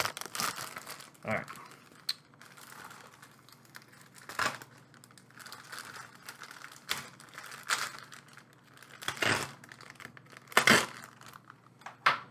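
A plastic toy package for a Star Wars Galaxy's Edge red kyber crystal being torn open, with several short crinkling, ripping bursts spaced apart over quiet handling noise, close up, with a brief spoken word.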